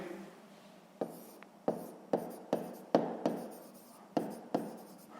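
A pen scratches and taps across paper during a sixth-grade maths exercise, in about nine short, sharp strokes in steady succession, close and clear with no talking.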